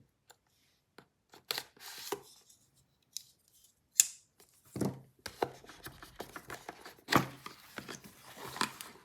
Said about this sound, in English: Oh, we got tape. Happen to have a little nipper right here